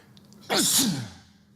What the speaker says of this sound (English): I don't know why I'm sneezing.